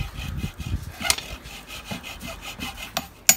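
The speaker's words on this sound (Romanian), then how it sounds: "Trecem la fierăstrăul mare deja." A large hand saw cuts into a golf ball in quick back-and-forth strokes, a close rasping scrape repeating about five times a second, with a couple of sharper knocks.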